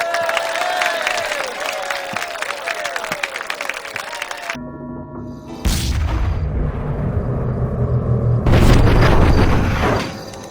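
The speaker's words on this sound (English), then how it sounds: "That was some nice shooting out there, bounty hunter." Gunfire in a Western-style quick-draw shooting contest: sharp, loud booming shots burst out amid crowd noise and cheering, echoing over a busy outdoor gathering with rising applause.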